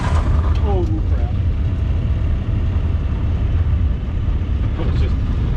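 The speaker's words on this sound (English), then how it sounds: "you hit the gravel and it makes a weird noise" A 1968 Buick Skylark convertible muscle car with holes drilled through its floor rolls over gravel, producing a loud, constant, coarse rumble throughout, with a brief voice near the start.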